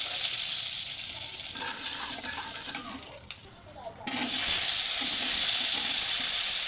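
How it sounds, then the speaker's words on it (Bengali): Pointed gourd (potol) fries in a pan, a steady bright sizzle that dips briefly in the middle, with faint stirring, then returns loud and continuous. "পটলগুলো ভেজে নেব"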